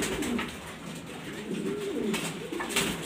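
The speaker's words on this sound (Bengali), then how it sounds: "দেখলেন আমার কবুতরটা গোসল করতেছে" A pet pigeon bathing gives soft, repeated low coos against a faint background hiss, with no one talking.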